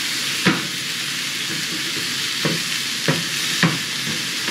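Steady sizzling of Philly cheesesteak meat frying in two pans, with a few sharp stirring scrapes and clatters breaking through the constant close hiss.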